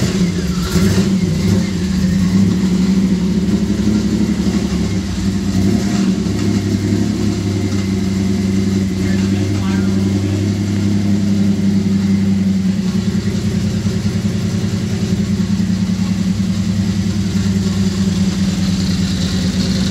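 A turbocharged V6 Dodge Dakota engine runs loud and close after a cold start, a rough steady idle with a few rev blips early on, then holding a continuous drone with no talking.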